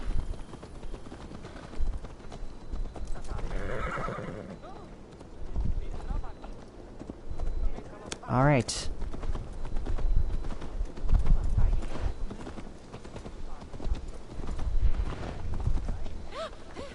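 Hooves of a horse in the video game Assassin's Creed Valhalla clip-clop at a walking pace throughout, with the horse whinnying briefly midway and someone speaking over the steps.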